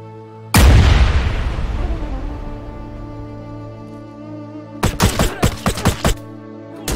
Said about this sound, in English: Grenade, move!